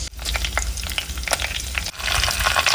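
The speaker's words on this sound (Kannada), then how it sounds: "ಹಾಗೆ ಕರಿಬೇವು ಸೊಪ್ಪು ಹಾಕೋಣ." Curry leaves dropped into hot oil with mustard seeds and cumin for tempering nugge soppu dal, a loud close crackling sizzle with popping spatters, briefly dipping twice before surging again.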